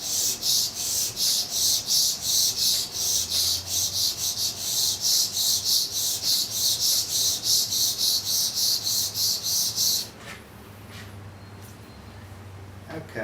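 Rhythmic back-and-forth rasping of a spokeshave sole being lapped flat on an abrasive, fast regular strokes, close and loud for about ten seconds before stopping, leaving quiet background.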